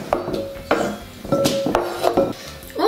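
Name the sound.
tomatoes put into a dish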